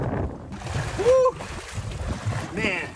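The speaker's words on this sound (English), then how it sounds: "Man, it is windy. Those waves are brutal." Choppy waves splashing against a boat on a windy day, a steady rush of water and wind gusts with voices talking over it, fairly loud and close.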